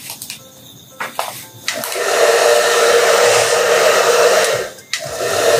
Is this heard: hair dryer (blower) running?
yes